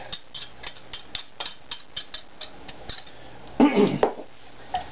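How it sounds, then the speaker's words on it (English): A whisk clicks against the side of a bowl of bleenies batter in steady, light taps, followed by a louder burst of clattering near the end. "So I'll whisk it all up, dump in my eggs"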